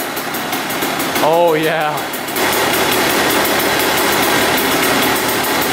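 A Kawasaki dirt bike engine idles with a steady, close, buzzing drone after a quick rev, and someone briefly comments over it.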